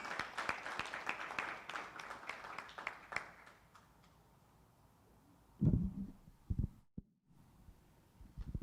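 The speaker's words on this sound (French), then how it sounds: "Applaudis Brother Gary" An audience applauds Brother Gary at a business presentation, a burst of dense clapping that fades after about three seconds and gives way to quieter sounds and a few louder thumps.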